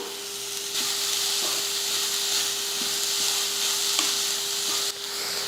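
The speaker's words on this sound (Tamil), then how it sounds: "இதில் ஒரு பிஞ்ச் அளவுக்கு உப்பு சேர்த்துட்டு நல்லா வதக்கி விட்டுடலாம்" Grated carrot and coconut sautéing in a pan for a sweet filling, a steady hissing sizzle broken by occasional light spoon taps and scrapes, with a faint constant hum behind.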